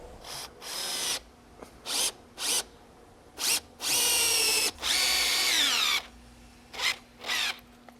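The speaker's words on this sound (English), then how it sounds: "Now we'll drill the tree." Power drill boring into a tree trunk outdoors, close and loud, in a string of short bursts followed by two longer runs with audible speed changes and a whining spin-down, separated by quiet gaps.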